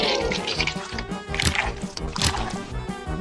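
Water pours from an outlet into a transparent LEGO brick fish aquarium fed by a pump, a steady splashing trickle with bubbling and dripping over background music.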